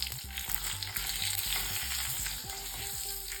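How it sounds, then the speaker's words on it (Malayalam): Chopped okra frying in oil with a pinch of asafoetida gives a loud, continuous sizzle and crackle, with soft stirring under it and no voices. "വെണ്ടക്ക നമുക്ക് ഈ ഓയിലൊന്ന് വേവിച്ചെടുക്കാം."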